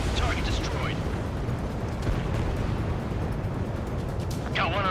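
An exploding target in the Ace Combat 7 video game, a sustained roaring rumble under continuous loud jet and combat noise, with a radio-style voice at the start and end.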